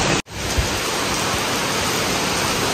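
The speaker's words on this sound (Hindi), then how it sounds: "आवाज़ आ रहा होगा बारिश का" Heavy rain pours down outside a balcony during a thunderstorm with strong wind, making a steady, dense, close hiss with no voices after a brief dropout at the start.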